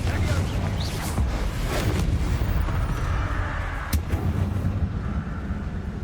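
In Hogwarts Legacy, Confringo and Incendio fire spells blast in quick succession, giving heavy low rumbling booms and crackling bursts that run continuously over the whole stretch.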